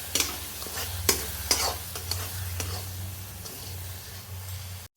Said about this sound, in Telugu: దీన్ని బాగా కలుపుకోండి. లో ఫ్లేమ్లోనే చేయండి.